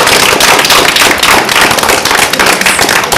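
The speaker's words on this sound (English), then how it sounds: "yourselves a round of applause" A group at a community meeting applauds, producing a dense, loud, continuous patter of many hands clapping close by.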